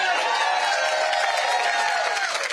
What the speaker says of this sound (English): in Rome, Georgia, we got a fired up crowd